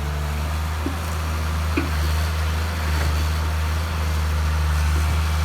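A PC120-3 excavator felling trees in very hard ground, its diesel engine running at a steady low idle throughout, close and continuous, with a few faint clunks over the hum.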